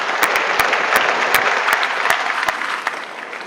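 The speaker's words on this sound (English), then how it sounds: "So let's give them a round of applause too." Audience applause after a presentation, a steady wash of many hands clapping, loud and sustained, with some sharper individual claps standing out.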